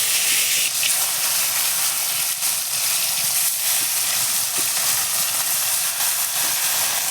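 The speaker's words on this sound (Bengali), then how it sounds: "এবার মাছগুলো একটা একটা করে ভাপে বসানোর জন্য দিয়ে দেবো।" Fish wrapped in ash gourd leaves steams in a lightly oiled wok, giving a steady, close, loud hiss that runs unbroken throughout with faint crackles beneath.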